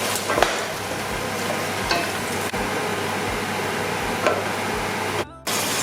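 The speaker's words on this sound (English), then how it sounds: "Now whilst the vegetables are frying" Continuous close sizzling and crackling of vegetables frying for a stew in a hot pan, with a few scraping stirs and clinks, briefly dropping out near the end.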